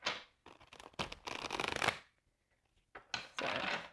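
Tarot cards are shuffled in several quick riffling bursts with short pauses between them, close and crisp, with no voices.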